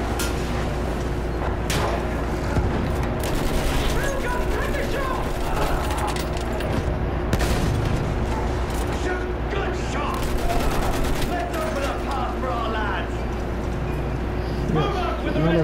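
Gunfire in the World War I shooter Battlefield 1, dense continuous volleys and rattling bursts over a constant battlefield din, with talk and shouting running throughout.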